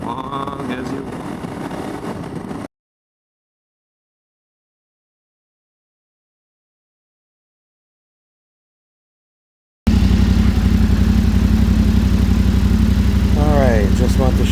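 A Yamaha Tenere 700 fitted with a Barnett clutch is ridden with a loud, steady engine drone and wind rush. The sound cuts out completely for several seconds midway, and a voice is briefly heard near the start.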